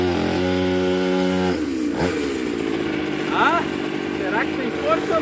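A 49cc mini dirt bike engine buzzes and revs with a high, raspy tone, rising in pitch in short bursts, while a person speaks over it.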